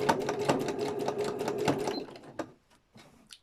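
A sewing machine slowly stitching along the outer edges of a gardening journal cover makes a rapid, even mechanical chatter for about two seconds. A few scattered clicks and soft handling sounds follow at close range.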